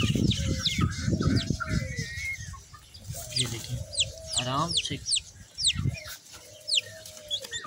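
Pigeons with chicks among them make soft chirps and peeping calls, with a few cluck-like sounds, close by while someone talks over them.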